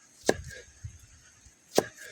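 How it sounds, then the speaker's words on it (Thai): A knife chops shallots into small pieces on a board, two sharp distinct chops about a second and a half apart with faint softer knocks between, close and quiet. "เราจะหั่นหอมแดงให้เป็นชิ้นเล็กๆพี่น้อง"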